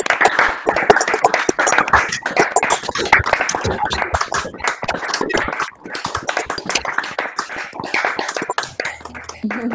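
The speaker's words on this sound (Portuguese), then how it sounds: "Uma salva de palmas, professor Ronaldo" Clapping from a group of people applauding a professor at the end of an online research talk, a dense, steady patter of hand claps lasting throughout, fairly close, with no words spoken over it.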